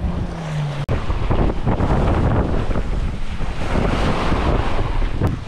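Strong 25-knot wind buffets the microphone aboard a sailboat, a loud, constant roar mixed with rushing waves and water against the hull.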